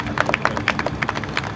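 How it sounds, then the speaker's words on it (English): Scattered hand clapping from a small audience at a press conference, a handful of distinct, fairly close claps in an uneven rhythm over a low room murmur. "Give her a round of applause."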